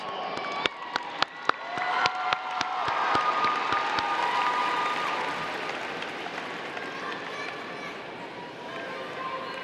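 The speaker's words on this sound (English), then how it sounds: "let's give our family and friends a round of applause" Seniors at the Plano East 2017 graduation ceremony applaud their families and friends: a few sharp, separate claps open, then swell into a sustained roomful of applause that slowly tapers while still going.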